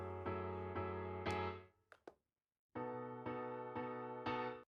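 Hard-struck piano chords in a produced track, played at raised MIDI velocity so they hit like slammed keys; repeated loud chord stabs, a brief break with a couple of small hits, then the chords return.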